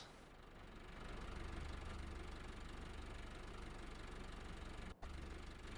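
A tractor engine in Farming Simulator 15 runs at a steady idle, a continuous low, even rumble that holds throughout, with one brief dropout near the end.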